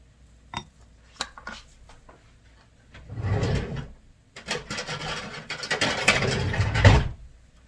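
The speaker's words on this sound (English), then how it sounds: "Always hear me digging in the drawers." Kitchen drawers are pulled open and rummaged through, with cutlery and utensils clattering and rattling in loud, close bursts separated by brief pauses and no talk.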